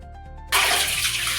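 During a six-month-old baby's bath, water suddenly starts pouring after a quiet hum, then gushes and splashes steadily and loudly up close for the rest of the moment.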